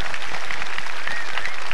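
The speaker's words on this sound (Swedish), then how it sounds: "Ge dem en applåd så mycket som de har skapat tillsammans." An audience at the 1996 Allsång på Skansen sing-along concert applauds in a dense, loud, continuous wash of clapping, with no voices.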